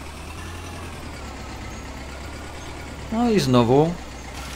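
A tractor engine idles with a steady low rumble throughout, while someone speaks briefly over it near the end.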